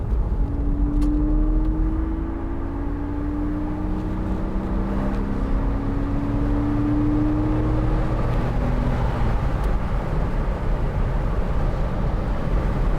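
A 2002 Porsche Boxster 986 with its 2.7 engine and the roof down, giving a loud, steady engine drone whose pitch climbs gradually as it is given gas.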